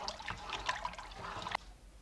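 Water is poured into a pot of groundnut sauce in a home kitchen, a soft close splashing trickle that runs for over a second and ends with a small clink.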